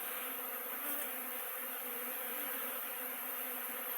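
Buckfast honeybees flying around an apiary make a steady, dense buzzing drone that holds evenly throughout, close and continuous, with no voices.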